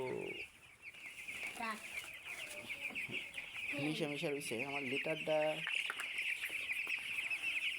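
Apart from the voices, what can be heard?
chickens clucking in a poultry shed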